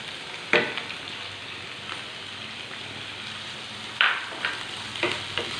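Finely chopped onion fries with ginger, garlic and green chilli in a pan, giving a soft, steady sizzle broken by a few sharp clicks of stirring, with no talk.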